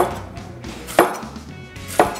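A knife slices apples on a cutting board for goat cheese fondue, giving two sharp, evenly spaced chops about a second apart, close and crisp over a quiet kitchen background.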